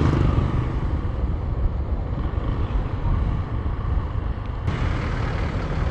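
A 14-year-old Kawasaki Rouser 135LS motorcycle runs after a cold start, a loud, close engine drone with heavy wind buffeting on the microphone and no clear talk.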